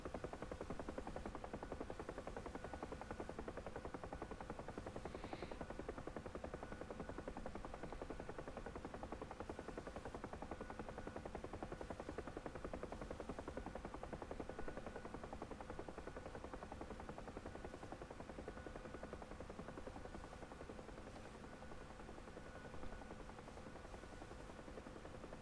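UH-1 Huey helicopter in DCS flight simulator near Batumi airfield, its rotor and turbine engine making a steady, continuous drone with a faint whine throughout, unchanging in level and close to the cockpit.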